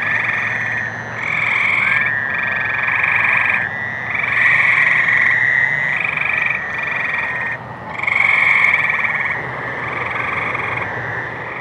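Frogs and toads call at night during the mating season in a loud chorus of trilling croaks that pulse in long overlapping bursts with brief dips, filling the whole stretch.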